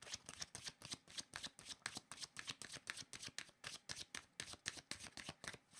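A deck of cards is shuffled for a card reading, with close, crisp riffles and snaps repeating in a quick, steady rhythm throughout, no voices.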